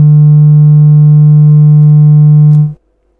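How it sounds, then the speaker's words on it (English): A homemade sine wave oscillator circuit produces a loud, steady low tone with clear distortion harmonics, holding constant for over two seconds before cutting off abruptly into silence. "as the amplitude increases, I'm just increasing the amplitude here,"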